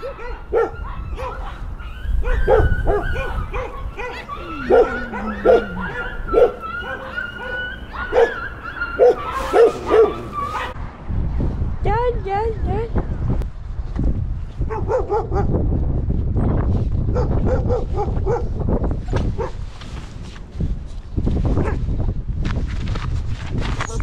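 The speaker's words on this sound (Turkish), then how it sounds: "Burada yüzlerce köpek var." Hundreds of stray dogs at a rubbish dump barking, yipping and whimpering, a dense chorus of overlapping calls, some close and loud, others farther off, going on throughout with a noisy rumble underneath.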